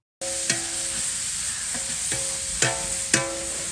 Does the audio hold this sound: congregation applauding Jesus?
no